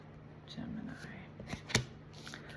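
Tarot cards being shuffled by hand in short riffling bursts, close and fairly quiet, with a sharper snap near the end; no one talks over it.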